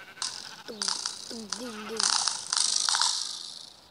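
A sheep in a modded video game bleats several times in wavering cries, over rattling game noise and a voice.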